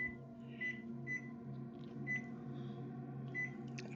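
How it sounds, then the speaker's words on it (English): A kitchen timer is set during stovetop cooking and gives a few faint, short beeps spaced irregularly over a steady low appliance hum. No voices are heard. "so let's set a timer for 5"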